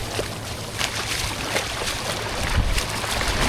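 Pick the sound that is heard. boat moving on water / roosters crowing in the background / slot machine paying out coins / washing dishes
boat moving on water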